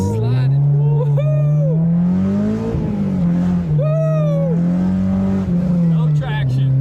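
A Honda S2000 drives with almost no traction on cold tires, its engine droning loudly while rising tire squeals sweep in and out as it slides, and someone talks excitedly over it.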